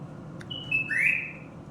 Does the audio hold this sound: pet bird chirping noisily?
yes